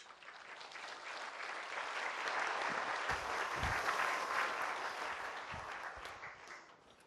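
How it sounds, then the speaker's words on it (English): An audience at a panel event on job selection applauds as panel members come to the stage, a sustained wash of clapping that swells, holds and tapers off near the end. "a round of applause as I welcome our panel members to the stage"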